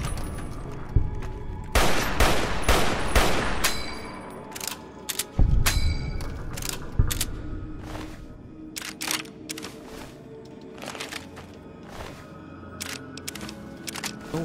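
Sharp gunshots from armor piercing rounds in Fallout New Vegas, a rapid cluster of loud cracks early on followed by scattered single shots with metallic clanks, fairly close and without talk.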